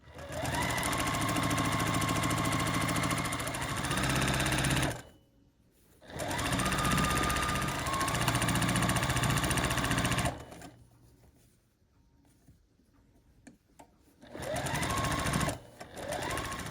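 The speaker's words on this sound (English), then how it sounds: "So I'm gonna get sewing these together" A sewing machine stitching quilt blocks together runs in long loud bursts of rapid mechanical whirring, broken by short pauses and quieter handling noises, close up with no talking.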